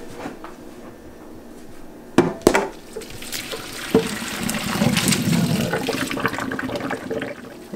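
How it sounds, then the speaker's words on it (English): Water pours and splashes into a sink as pasta is drained, with a couple of sharp clunks early on and a steady rushing gush that continues to the end. "So now we drain our noodles"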